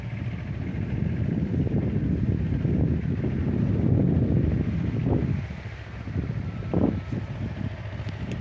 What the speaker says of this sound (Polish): Trzeci dzień z rzędu wiatr ze wschodu.